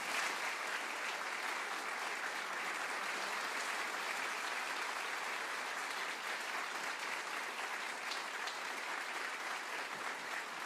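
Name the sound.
audience applause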